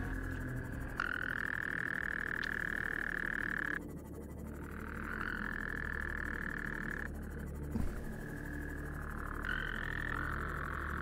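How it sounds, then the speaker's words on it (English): Toads croak repeatedly in a loud, steady trill that stops and restarts in several long bursts, alone with no talking, carried over by a sound alert on a livestream. "Thank you, Ryan, for the toads."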